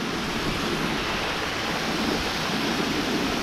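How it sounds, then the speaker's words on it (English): A waterfall pours in a steady, dense roar of rushing water, close and loud with no break. "There's waterfall."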